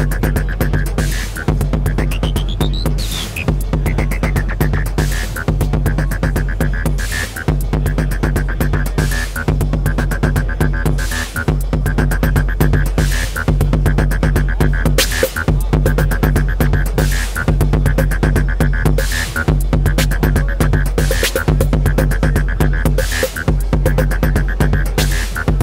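A modular synth patch at the Superbooth 2018 trade show is driven by a 4MS clock divider into a Red Dragon and a Hex Inverter Mutant Brain. It plays a loud, steady throbbing groove of regularly repeating pulses over a sustained hum.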